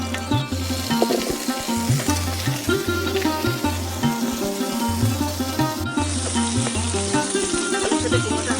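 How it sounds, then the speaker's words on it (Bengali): Pumpkin pieces frying in oil hiss steadily up close, broken by repeated knocking stirs of a spatula in the pan, with no talk over the cooking. "এবার কুমড়োগুলো ভেজে নেব।"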